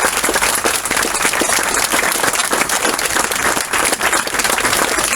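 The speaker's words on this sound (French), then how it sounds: "vous pouvez évidemment l'applaudir" An audience at an inauguration ceremony marking a former demarcation line applauds loudly and steadily, dense clapping sustained without a break, with no talk over it.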